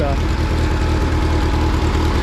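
A Minneapolis Moline RTI tractor with an SM mower idles close by, a steady, loud low-pitched engine chug with an even pulsing rhythm throughout.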